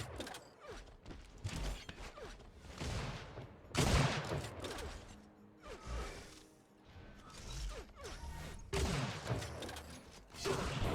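Rapid gunfire and rocket blasts from an Unreal Tournament duel match, with dense bursts of shots and explosions coming in waves across the clip, loudest near the middle and end.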